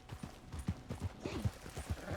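Horse hooves clip-clop in an irregular trot in Red Dead Redemption 2, moderately close over soft game ambience, with faint snorts and no talk.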